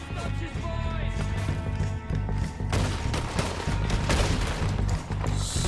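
Gunfire rings out in the video game Red Dead Redemption 2, a dense fusillade of shots layered over a loud sustained game soundtrack and ambience, with rapid bursts intensifying in the second half.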